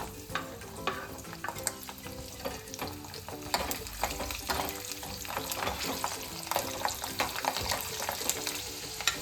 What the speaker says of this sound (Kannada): ಸ್ವಲ್ಪ ರೋಸ್ಟ್ ಆದಮೇಲೆ ಬೆಳ್ಳುಳ್ಳಿ ಆ್ಯಡ್ ಮಾಡ್ಕೊಳ್ಳೋಣ.